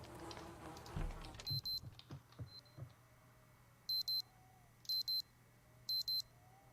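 A wristwatch alarm in the video game Project Zomboid beeps in short, quick electronic pairs repeating at roughly one-second intervals, faint and thin over quiet background game ambience.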